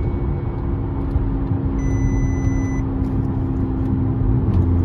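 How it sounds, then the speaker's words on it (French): An Audi S3 engine running just after being restarted, a loud, steady low drone with a faint high whine that stays even throughout, with no clear rise in revs. "Là le moteur a redémarré"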